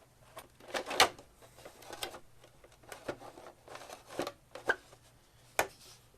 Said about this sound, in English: Put those screws back in.